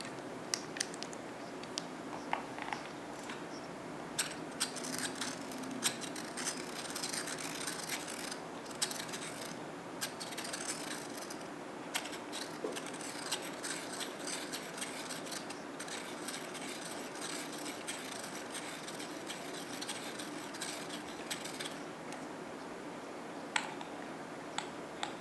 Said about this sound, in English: I take my lead pointer and my lead sharpener and just grind it to a new fine point